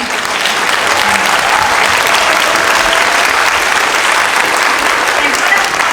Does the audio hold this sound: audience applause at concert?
yes